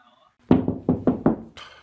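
Five sharp, hollow knocks strike a door in a quick, slightly uneven rhythm, close and loud, followed by a brief rustling noise.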